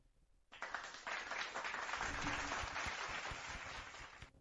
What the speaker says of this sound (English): Golf claps.